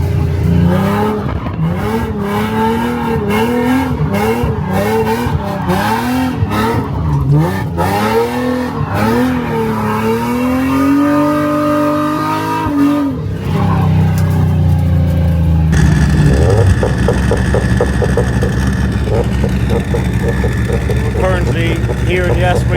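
A drift car laps the Asmarina circuit in the UAE, its engine loud and close, revving up and down in waves with tire squeal, while a voice talks over it.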